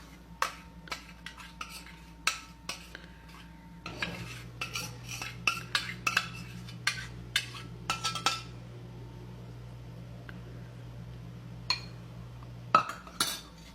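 Sugar and rusk being mixed for bread halwa, with a spoon repeatedly scraping and clinking against a metal pot in irregular bursts, moderately close, over a low steady hum in the kitchen.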